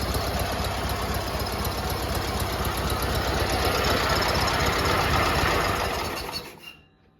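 Big riding mower engine running steadily nearby, a loud continuous rumbling drone with rattling vibration, then abruptly cutting out and fading to quiet near the end.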